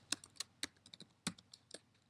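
Keystrokes typed on a computer keyboard while entering text in comic-strip software, a quick irregular run of sharp clicks, close and fairly quiet, with no voices.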